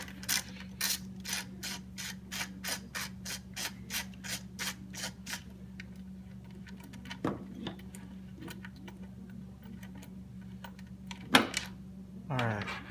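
A 10mm ratchet wrench clicks rapidly in a steady run while backing a bolt out of an Infiniti G37 throttle body, close and distinct, then slows to a few scattered metallic clicks and clunks with a low hum underneath.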